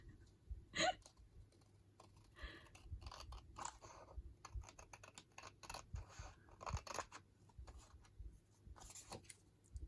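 Scissors snip and trim paper during a craft session making layered ephemera pockets, with a run of short, close, crisp cuts and paper rustles in an irregular rhythm and one sharper burst near the start.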